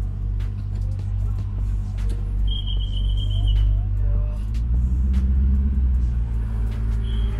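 A BMW E34 530i engine runs while the car drives, a steady low rumble and drone throughout, with people talking over it inside the cabin.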